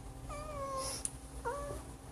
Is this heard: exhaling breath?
no